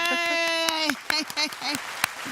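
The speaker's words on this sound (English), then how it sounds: "Let's give her just a hand clap right now" An audience gives a guest, Dr. Shonda Smith, a short round of scattered hand claps at a talk event. The claps are sparse and sharp, mixed with a voice talking and cheering over them.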